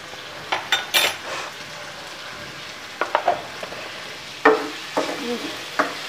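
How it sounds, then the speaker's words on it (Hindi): Chicken frying in a pot with salt, stirred in short scraping bursts over a low steady sizzle, close and fairly loud, with no voices. "ये थोड़ा भूनूंगी मैं चिकन इसी में।"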